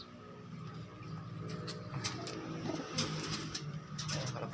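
Soft, low cooing of a pigeon with an injured wing, repeated calls close by and fairly faint, with light rustling and clicks in between and no talking.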